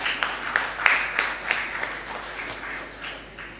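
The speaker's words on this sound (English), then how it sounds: "Ladies and gentlemen, round of applause." An audience at an annual accountants' conference breaks into applause, a dense run of claps with sharper peaks that slowly thins out, heard fairly close with no talk over it.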